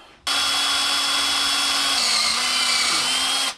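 A power drill boring a hole in a wooden broom handle, a steady loud whine that starts abruptly and holds for about three seconds, its pitch sagging slightly as the bit loads, then cuts off.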